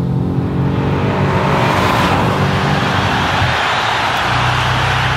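Audi RS5 with all-wheel drive lapping the Hockenheim race track, its engine holding a loud, steady roar close by for the whole stretch, with rising tone and a brief shift of pitch midway.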